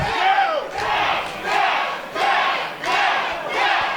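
A wrestling arena crowd roars and chants for champion Chris Bey during a no holds barred match, loud sustained cheering that swells in rhythmic waves across the whole stretch.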